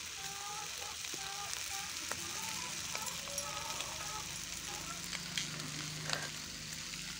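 Steady sizzling and crackling of spices and mutton frying in a clay pot over a wood fire, with occasional stirring clinks, fairly close and continuous.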